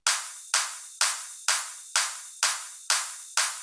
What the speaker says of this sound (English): a few drop claps,